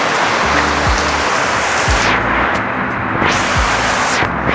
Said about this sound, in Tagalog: Pero grabe yung ulan. Kanina pa. Sobrang lakas.